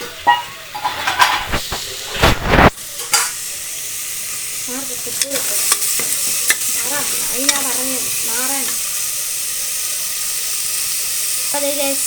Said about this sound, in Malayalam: ഇനി നല്ലോണം ഇളക്കണം.